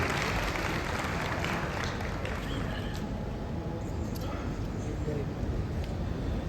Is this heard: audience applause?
yes